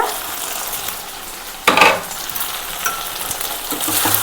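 An okra and raw prawn curry cooks in a pan, with a steady sizzle under brief scraping and clattering from stirring, including one louder clatter partway through. No one speaks.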